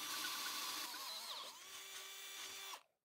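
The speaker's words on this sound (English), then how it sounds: "Then we can drill a hole through the block and enlarge it with a bigger drill." A high-pitched power drill whines steadily as it bores a hole through a metal block, its pitch dipping under load before the motor winds down and stops.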